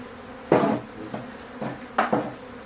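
Bees buzzing during a bee removal from under a toy stove in a backyard playhouse during a storm, heard as a few short, loud buzzing bursts close by with quieter gaps between them.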